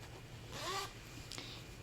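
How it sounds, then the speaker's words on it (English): A zipper on a small fabric project bag is pulled open or shut in one quick, quiet rasping stroke, followed by a shorter second tug, heard close up with no talking. "the zipper works"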